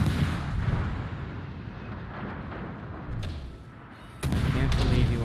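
Continuous artillery fire from a Tier 6 Pan-Asian light cruiser, the Rahmat, in the naval game World of Warships: a dense, loud rumble of gunfire that dips briefly, then resumes with a sharp, heavy boom.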